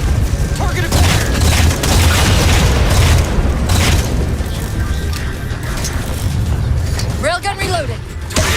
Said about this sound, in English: Target those phantoms for the railgun to shoot down.